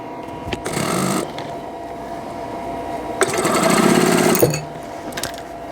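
A sewing machine stitches a quilt block in two bursts, a shorter one near the start and a longer, louder run later, with quiet handling noise between and no one speaking.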